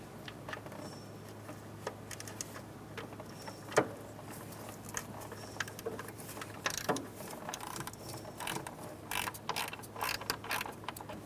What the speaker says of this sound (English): Using a 12mm socket, we're going to take off this bracket bolt right here.